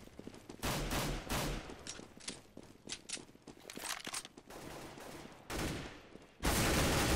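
A pistol in CS: Global Offensive fires in quick uneven bursts, sharp cracks separated by short gaps, ending in a louder dense volley; nearby game sounds sit underneath and no one speaks.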